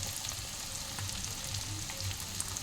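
Ground coriander and cumin sizzle and fry in hot oil in a pan, a soft, continuous crackle with faint stirring clicks.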